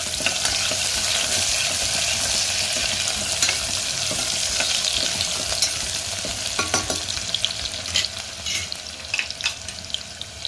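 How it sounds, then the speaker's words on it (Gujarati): Chopped onion frying in hot oil with whole spices for sambhar, a steady loud sizzle broken by scraping stirs of a spoon against the pan, with no talking. "તેમાં ડુંગળી ઉમેરી દેશું અને તેને ચલાવી દેશું"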